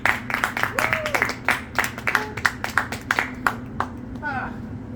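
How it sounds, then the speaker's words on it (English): Audience applause and cheering for a comedian as she takes the stage at a comedy show: a sustained crowd roar with scattered claps and whoops, with a voice briefly audible near the end. "that applause reflects my comedy career"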